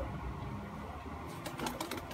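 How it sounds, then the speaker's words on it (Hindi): Pigeons bathe in water at a pigeon loft on a hot day, with faint splashing and fluttering wing flaps growing busier partway through over a quiet background hum. "कबूतर बारी बारी आ रहे हैं और नहा रहे हैं"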